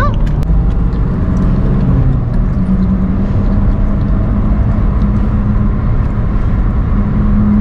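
A Chevrolet Cruze and a Toyota Innova Crysta race, and their engines make a loud, continuous roar with road and wind rush. The pitch shifts a little as they rev, and no one talks.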